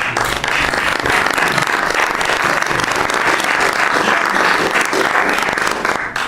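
Dense, loud applause fills a cabinet meeting room, a continuous wash of many hands clapping close by for about six seconds with no pause.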